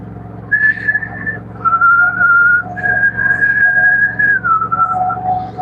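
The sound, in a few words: person imitating steady pitch whistle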